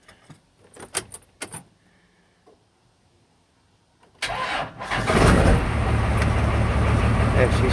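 An old Cummins diesel with about 183,000 miles cranks and fires after a few clicks and rattles of keys, then settles into a loud, steady idle that fills the rest of the clip.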